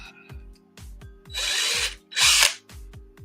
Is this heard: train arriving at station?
no